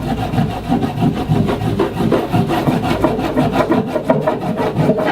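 A bar of surf wax rubbed firmly across a surfboard deck in steady back-and-forth strokes, a close, loud scraping friction with no voices.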